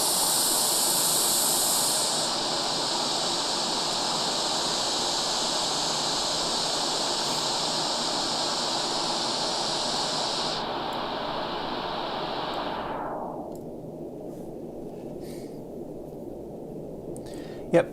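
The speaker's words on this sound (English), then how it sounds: "Because this is real white noise now." Steady white noise from an audio plugin hisses loudly and evenly, its upper range stepping down in stages as it is filtered until a duller hiss remains.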